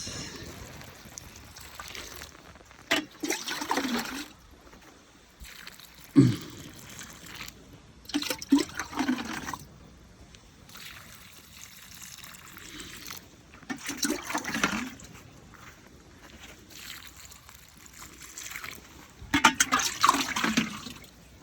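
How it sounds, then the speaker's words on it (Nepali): Water poured outdoors in cold weather, heard as several separate splashing bursts of pouring and trickling, each a few seconds long, with quiet gaps between them. "पानी हाल्छु"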